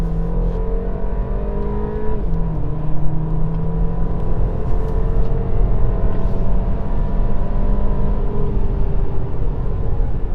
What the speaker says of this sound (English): it's not the engine sound we want because it's a sound of a strained 2-liter 4-cylinder turbocharged engine.